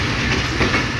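Allama Iqbal Express pulling out of Lahore station: a steady, loud rumble of rail cars rolling past close by, with faint rhythmic clatter of wheels over the track and no voices.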